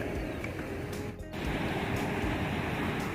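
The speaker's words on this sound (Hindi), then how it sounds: "यहाँ पर अब नदी की आवाज़ के कारण वॉइस क्लियरिटी नहीं आएगी" Fast, milky-white mountain river water rushing past close by, a loud, steady broadband roar with no break, heard alone without talk.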